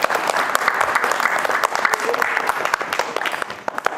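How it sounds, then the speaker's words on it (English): Dense, lively audience applause with many crisp individual claps, loud and close, sustained steadily for the full few seconds. "Boys and girls, big round of applause for Marc Levitt"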